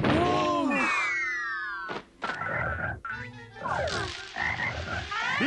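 Cartoon frog croaks, several loud bubbly croaks with rising and falling tones mixed among clatter and busy cartoon effects, no talk.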